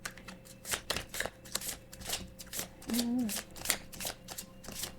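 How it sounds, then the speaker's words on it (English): A deck of tarot cards is overhand shuffled in quick, rhythmic riffling bursts close by, with a brief voice murmuring partway through. "I'm just gonna overhand shuffle"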